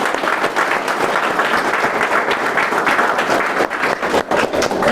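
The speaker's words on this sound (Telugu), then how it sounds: "ఒకసారి గ్రేట్ రౌండ్ ఆఫ్ అప్లాజ్ ఇవ్వచ్చు." A seated audience at a success-journey event gives a sustained round of applause, dense and steady clapping that stays loud throughout and barely dips near the end, with no talking.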